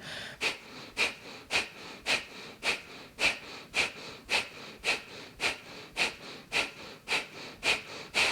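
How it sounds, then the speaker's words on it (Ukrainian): Kapalabhati yoga breathing: a steady series of about fifteen sharp, forceful nasal exhales at a regular quick rhythm, close and fairly quiet, with no talking. "Дишимо, дихаємо капалабхаті. Активний видих."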